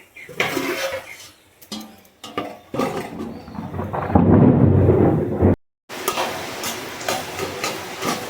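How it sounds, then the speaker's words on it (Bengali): Thunder rumbles with steady rain outside, loud and sustained through the middle, mixed with clinking pots and utensils from a kitchen where green vegetables cook. "দেখুন বৃষ্টি হচ্ছে"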